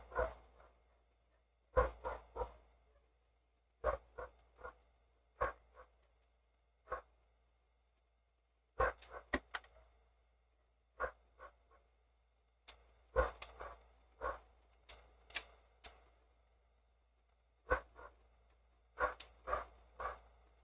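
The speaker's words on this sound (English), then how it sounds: "There's dogs barking outside." Dogs barking outside at a distance, short sharp barks in irregular bursts separated by quiet gaps, fairly faint and heard alone.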